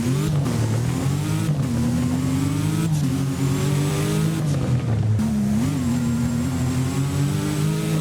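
W Motors car engine in the Driving Empire video game, a loud, aggressive rumbling idle with several short revs rising and falling, close and continuous with no talk.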